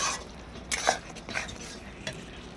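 Masala spices for a Hyderabadi-style fish curry are stirred in a frying pan, with a few scattered scrapes and clinks of a spoon over a low sizzle.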